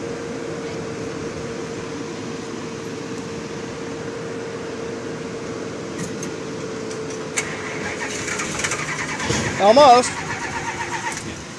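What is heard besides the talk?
1978 Chrysler Cordoba engine being cranked and starting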